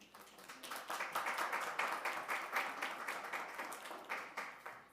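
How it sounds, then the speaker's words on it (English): A room full of people at a city council meeting applauds, steady dense clapping that swells and rolls on for several seconds with no talking. "I will just ask that we can restrain from the applause"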